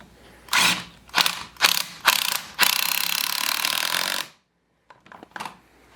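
A hand ratchet tightens the clamp on a ZZPerformance cold air intake on a Chevy Cruze, clicking close and loud in several quick bursts, then one long continuous run of ratcheting before it stops.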